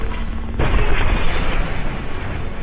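Shotgun fire erupts in a Mass Effect 2 firefight, a sudden loud blast that merges into sustained booming, rumbling combat noise.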